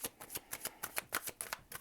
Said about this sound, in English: All right, there's another shuffle.